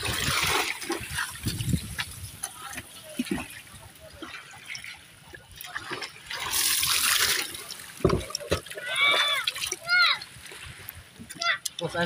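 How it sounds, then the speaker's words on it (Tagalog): Water pours and splashes in bursts amid loud outdoor activity, with people talking and a few birdlike chirps around the pouring. "Dito natin ang tubig."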